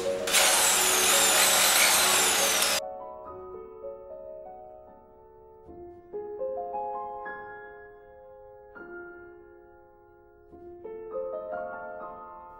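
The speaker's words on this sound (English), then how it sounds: "Let's start drilling." Power drill boring mounting holes for a DIY dual-screen portable desktop: a loud, high-pitched whine lasting under three seconds, then stops abruptly, followed by a quieter tonal melody.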